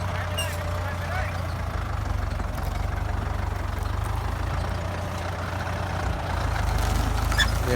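A Ford 5000 tractor engine labors pulling a three-disc plough through hard soil with stumps, a steady low rumble and some knocking, its drone holding loud and continuous throughout.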